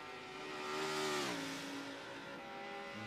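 Race car in Forza 7 at Spa on a long straight, engine holding a steady high whine that climbs, then drops in pitch as it shifts, loud and close with no talk.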